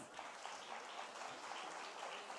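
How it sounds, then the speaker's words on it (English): Faint, steady applause from an audience at a school Independence Day celebration, a dense wash of many hands clapping at a distance for a couple of seconds with no talk over it. "Can I hear a big applause?"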